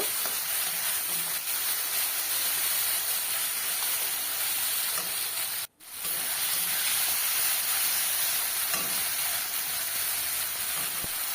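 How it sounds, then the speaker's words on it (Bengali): Onion, turmeric and spice paste sautéing in a pan for a boal fish curry, a dense continuous sizzle and hiss with occasional stirring, close and loud, one brief dropout midway. "এবার একটু ভালো করে কষিয়ে নেব।"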